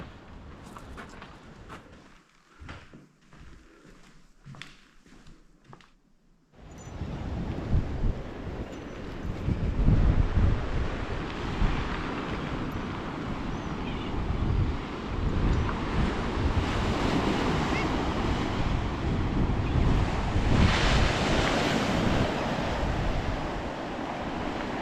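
Waves crash on the shore at the Brough of Birsay, Orkney, a loud roaring surf mixed with heavy wind buffeting the microphone, continuous after a brief quieter opening.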